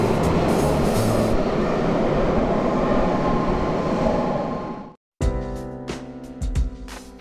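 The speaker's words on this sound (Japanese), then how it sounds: "VVVF が名鉄2200系の軌道音に似ているな。" A Toei Mita Line 6300 series subway train rumbles loudly on the tracks in Tokyo, then after a brief silence its VVVF inverter motor whines with rising tonal pitches as the train pulls away.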